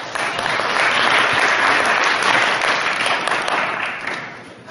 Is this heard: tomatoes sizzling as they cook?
no